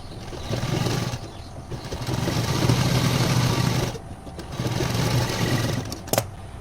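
A sewing machine stitches a silk blouse without an interlock machine, running in three sustained bursts separated by short pauses, close and clear, with a small click near the end.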